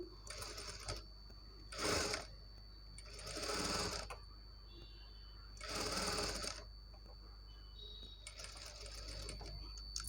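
A sewing machine stitches piping around a blouse neckline in short bursts of rapid whirring separated by pauses, fairly quiet and close, with a faint steady hum between runs.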